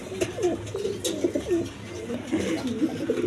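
A pair of imported Beauty pigeons coo close by, giving soft repeated throaty rolls in a steady run with no pause.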